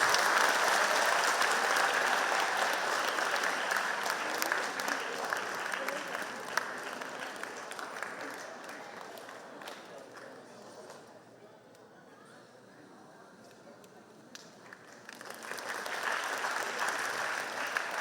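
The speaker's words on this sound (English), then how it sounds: "Audience, please cheer them with a loud round of applause." A school annual day audience applauds award winners with loud, dense clapping that tapers off, falls into a brief lull, then surges again for the next honoree.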